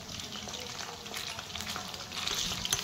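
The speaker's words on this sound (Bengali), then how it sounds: "আর এগুলো এখন ভাজা হয়" Powdered spices, onion and tomato frying together in a pan, giving a dense steady hiss of sizzling close by that grows slightly louder toward the end, with no talking.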